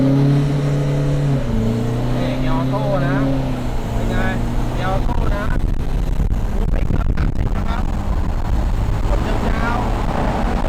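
Modified automatic car with a full performance kit accelerating hard from a launch, the engine revving up through rising tones with shifts, loud and close inside the cabin, with a voice speaking over it.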